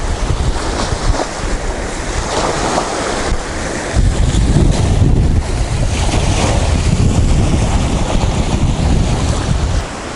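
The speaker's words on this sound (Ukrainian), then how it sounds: "Роздувся сильний вітер, великі хвилі." Strong wind buffets the microphone while large waves slap and wash against a fishing boat on the Dnipro river at Kyiv during an evening feeder fishing trip, a steady loud roar throughout with no talking.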